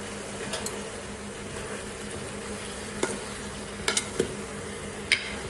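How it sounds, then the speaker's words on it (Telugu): Spoon stirring chilli powder into softened mixed vegetables in a pan for a Telugu vegetable dappalam, a steady low sizzle with a few sharp scrapes and clinks near the three-, four- and five-second marks, no talking. "కారం వేసి అంతా కలిసే విధంగా కలపాలండి"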